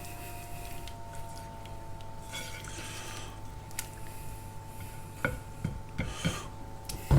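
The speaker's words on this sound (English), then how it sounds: "we're going to give it a little stir around now" A spoon stirs fish in garlic tomato sauce in a pan, soft scraping and light clinks over a gentle simmer and low hum, close and quiet, no talking.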